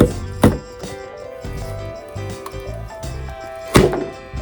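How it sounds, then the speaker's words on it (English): Carrots pushed down through a grid-blade slicer, giving a few heavy chopping thunks with softer knocks and rattles of the slicer between them, close and loud. "push down and my carrots are perfectly sliced into"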